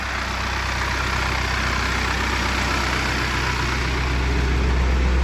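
A small tractor engine idles steadily in rain, a continuous low rumble with a constant broadband wash over it, no talking.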